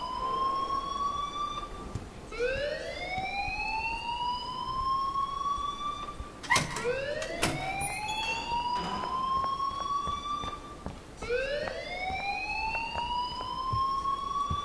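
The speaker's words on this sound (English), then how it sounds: "please turn off that alarm since that's your job" An alarm in the game Life Is Strange wails in repeated rising sweeps, like a siren, loud and close. Each cycle climbs and holds before restarting, with a brief burst of other noise midway and no talking.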